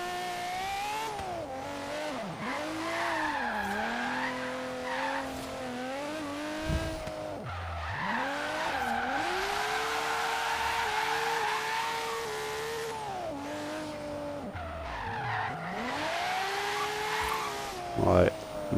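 Nissan cars drifting on a drift course in Forza Horizon 3, engines revving and wailing with long tire squeals rising and falling continuously, loud and close throughout.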